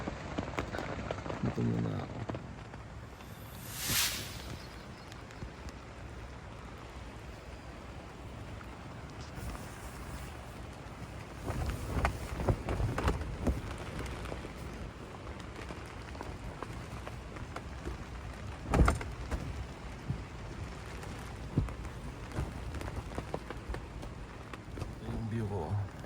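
Gusty wind and falling rain at a riverside campsite: a steady dull rushing wash with louder buffeting gusts and scattered thumps, while someone speaks briefly over it.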